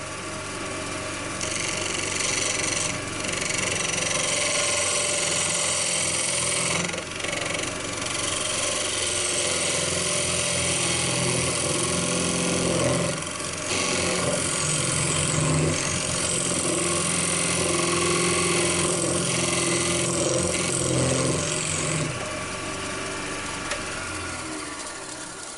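A wood lathe turns a natural edge ash bowl while a tool cuts into the spinning piece, a continuous close motor hum mixed with scraping and rushing cutting noise, shifting slightly as the blade presses in.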